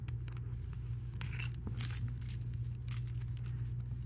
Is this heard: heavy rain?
no